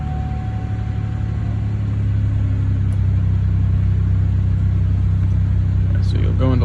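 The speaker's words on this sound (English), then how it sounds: "Here we are starting the vehicle, looking at the PIDs, the live data. The vehicle just started." A vehicle engine idling just after starting, a steady low rumble that holds evenly throughout at close range, with a few faint clicks near the end.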